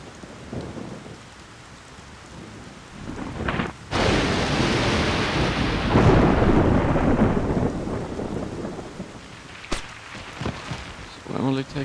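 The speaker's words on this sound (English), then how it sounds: "We're back in the area with the lightning." Thunder cracks and rolls through a rainstorm in the Splinter Cell Pandora Tomorrow video game, with a loud sustained rumble and steady rain, brief sharp strikes, and faint footsteps.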